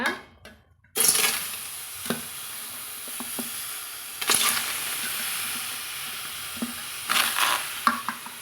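Chopped tomatoes tipped into a dry pan for tomato pickle and stirred, giving a steady close sizzle and hiss with occasional scraping stir strokes and louder bursts as the pieces hit the hot surface.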